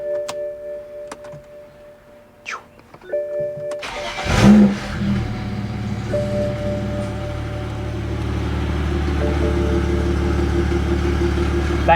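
A BMW E92 335i with the N54 engine and one rear muffler removed cranks and fires up, settling into a loud, steady, raspy idle close by, with a faint rattle from loose exhaust clamps.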